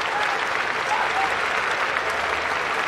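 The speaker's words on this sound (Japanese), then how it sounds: "場内からは拍手。" Dense steady applause from a baseball stadium crowd during a professional game in Japan, a continuous loud wash of clapping with faint whistles throughout.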